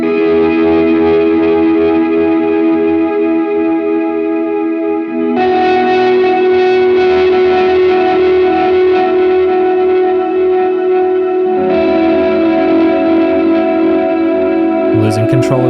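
Electric guitar through a JHS pedal board with the reverb at maximum decay, producing a dense, swelling wash of sustained chords that builds into a constant droning noise. New chords layer in partway through, and the sound never drops away.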